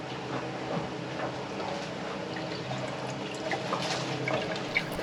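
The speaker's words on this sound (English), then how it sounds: "Let's try to pour water down there." Water is poured down a clogged drain aboard a sailboat under renovation, a soft steady trickle and gurgle at low level with faint background noise throughout.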